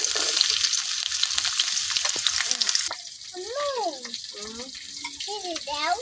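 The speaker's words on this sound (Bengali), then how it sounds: "এখন কড়াইয়ের মধ্যে দিয়ে দিতেছি কাটিয়ে রাখা পেঁয়াজ আর কাঁচামরিচ।" Chopped onions and green chillies hiss in hot oil in a wok, a bright, steady sizzle for about three seconds that then cuts off. Faint voice-like sounds follow at low volume.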